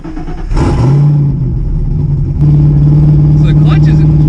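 1986 Mustang GT engine revving up on an evening cruise, pitch climbing then holding a steady loud drone, with someone talking over it.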